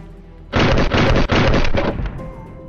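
Loud bursts of gunfire in the DayZ video game: several rapid shots run together for about a second and a half, then fade into a quieter tail.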